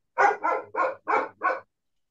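A dog barks five times in a quick, even series over about a second and a half, each bark short and sharp, close and clear with no other sound around it.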